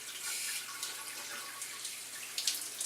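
Shower head running water, a steady close hiss of spray with small splashy bursts near the end, no voices.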